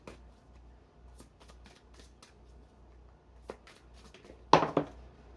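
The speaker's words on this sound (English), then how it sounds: "let's get my cards all in order here." Tarot cards shuffled by hand at a reading, soft faint riffles and slides in quiet room tone, building to a louder brisk burst of card flutter near the end.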